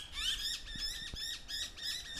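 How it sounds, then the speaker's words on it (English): Myna birds squawk noisily in a repeated series of harsh, raspy calls, fairly close, with a few faint knocks underneath and no voices. "See how noisy those birds are."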